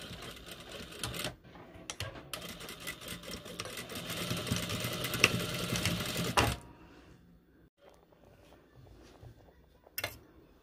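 Sewing machine stitching the hem of a jilbab cape: a fast, steady mechanical whirr in a couple of short bursts, then a longer run of about four seconds, followed by near silence and a faint final click.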